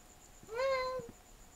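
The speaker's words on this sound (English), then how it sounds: "Wait. It's meowing." A single cat meow in the video game The Last Door, one clear drawn-out cry lasting about half a second over a faint background hum.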